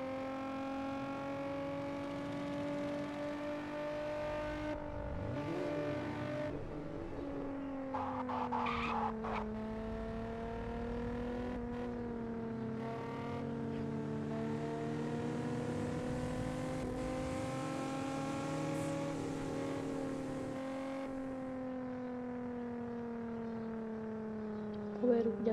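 Car drifting and revving in the video game Gangster New Orleans, a steady engine drone with shifting pitch and bursts of tire squeal, loud and continuous.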